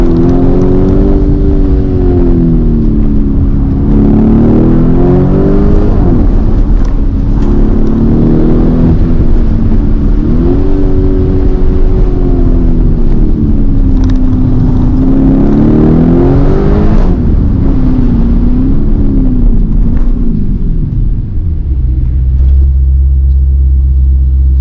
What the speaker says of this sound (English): the exhaust is more throaty, more shouty, louder, harder, faster, and more involving